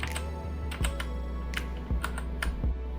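Several keys on a HUO JI Z-88 budget mechanical RGB gaming keyboard are pressed one at a time, giving crisp, close clacks spaced irregularly over a low steady background hum, with no talking.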